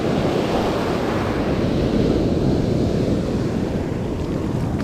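Ocean surf rolls and breaks along a beach where someone is surf fishing, a steady loud wash of waves with wind buffeting the microphone throughout, and no voices.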